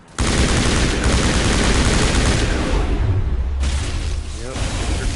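A turret in the video game Mass Effect fires nonstop, a loud, dense roar of rapid shots that carries on for several seconds with barely a break.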